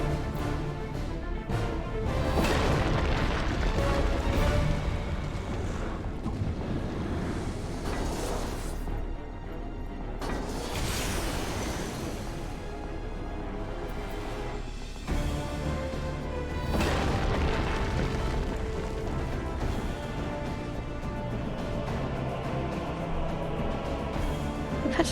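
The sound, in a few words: meteor impacts exploding in video game Final Fantasy XIV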